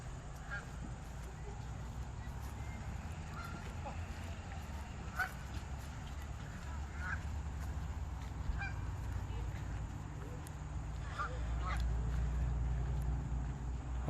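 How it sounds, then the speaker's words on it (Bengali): A flock of ducks heads into the water in an outdoor setting, with scattered faint honking quacks at a distance over a low, steady background rumble. "আমরা দেখতে পাচ্ছি দল বেঁধে হাঁসগুলো পানিতে নামছে।"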